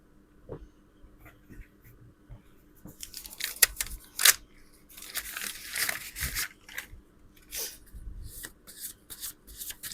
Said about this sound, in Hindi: कुछ कार्ड्स निकालूंगी इनके।